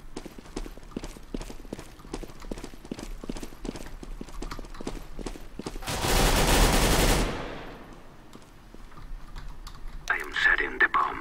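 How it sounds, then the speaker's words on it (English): A bomb gets planted in the video game CS:GO: a long run of quick, rhythmic clicking taps, broken by a loud rushing burst of noise, then more clatter and a brief bright sound. "I am setting the bomb."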